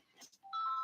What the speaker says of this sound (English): Here's somebody ringing.